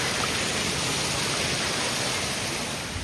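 Continuous close rushing of the Simili waterfall, a broad even wash of water noise that holds steady throughout without talk.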